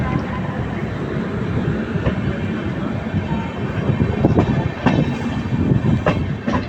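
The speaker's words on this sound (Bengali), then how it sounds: "ট্রেন ডিপার্চার নিচ্ছে মালদা টাউন থেকে।" The Tebhaga Express, an LHB-coach train, pulls out of Malda Town station with a close, continuous rumble, rhythmic wheel clatter and a few sharp clicks that build toward the end.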